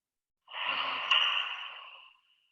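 One long, deep exhale during a yoga session, breathy and close, swelling quickly and then fading gradually over about a second and a half, heard alone in a quiet room.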